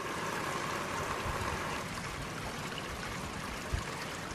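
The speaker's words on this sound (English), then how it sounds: "Let's turn on our water." A steady, full rush of running water pours continuously at close range into a homemade water turbine generator, with no voices.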